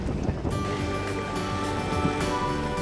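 Sea waves wash onto a fishing village beach at Mui Ne, Vietnam, where round basket boats are launched, giving a steady broadband roar of surf with wind across the whole stretch and no voices.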